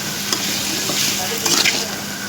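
Ridge gourd sautés in a pan with salt, turmeric and masala powder, a continuous close sizzle broken by brief scraping stirs.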